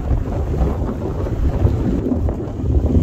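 Thunder rumbling over Tombstone, Arizona, a low, continuous, loud roll that swells and fades across the whole stretch, with wind and rain-like noise and no talking.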